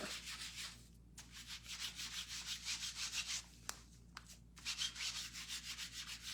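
Close, quiet rubbing and scuffing on a piece being given an aged finish, heard as rhythmic strokes in bursts with a couple of brief pauses and a small knock.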